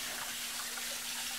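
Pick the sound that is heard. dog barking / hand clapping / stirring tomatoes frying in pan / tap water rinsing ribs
tap water rinsing ribs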